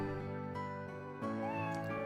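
Kitten meows in Final Fantasy VI, a short synthesized cry set over steady chiptune-style game music, fairly loud and close, with a second brighter mewing tone rising near the end.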